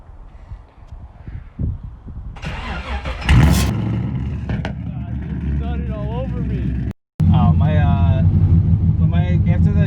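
A Rocket Bunny 240SX engine starts and its loud modified exhaust revs and rumbles, briefly cutting out before roaring again, with people talking over it.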